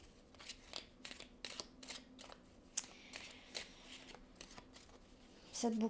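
Tarot cards being shuffled and drawn at a close, quiet table, a run of soft riffling and flicking bursts ending in a louder rustle as a card comes out.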